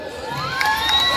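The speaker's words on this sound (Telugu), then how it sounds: "నచ్చితే గట్టిగా చప్పట్లు." A live audience at a Telugu comedy skit stage performance cheers and shouts loudly and continuously, with a dense crowd roar and whoops throughout the short stretch.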